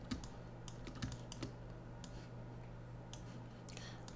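Soft, quick clicks of arrow keys pressed on a computer keyboard while nudging design elements in Figma, quiet and close, in a short irregular burst of taps.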